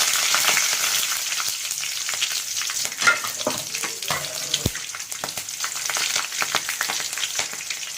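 Curry leaves and green chillies crackle and sizzle steadily in hot oil in a pan for a South Indian banana stalk stir-fry, with occasional stirring clinks over the continuous hiss.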